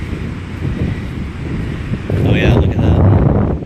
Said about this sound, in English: we still have some decent wind